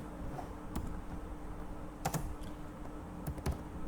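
Typing SQL code on a computer keyboard, scattered clicking keystrokes in small bursts over a low background hum, quiet and close.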